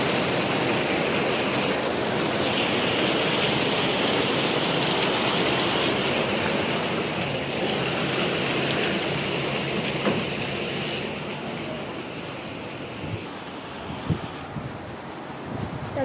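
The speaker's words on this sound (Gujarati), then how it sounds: "હવે તો વધારે ફાસ્ટ થઈ ગયો છે વરસાદ" Heavy rain pouring outdoors in a dense, steady hiss with some wind, easing a little near the end as a few separate drops and taps stand out, with no voices.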